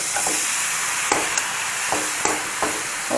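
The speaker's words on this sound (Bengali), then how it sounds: "জিরে বাটলাম যে সেই দিয়ে একদম মশলা করে কষতে শুরু করেছি" Ground cumin spice paste frying in a pan with boiled banana flower, chickpeas and potato, a steady close sizzle broken by several scraping stir strokes, with no talking.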